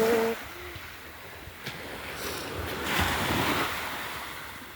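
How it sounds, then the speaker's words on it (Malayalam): Sea waves roll onto Chavakkad beach on a morning shore, a steady wash of surf with wind buffeting the microphone and swelling toward the end; no voices. "കടലേ കടലേ തിര പോയി"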